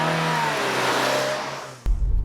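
A four-cylinder engine in a 2016 or 2017 Vauxhall Corsa revs up steadily and loudly, then drops away. A sharp thump follows, and the engine settles into a rough, close idle.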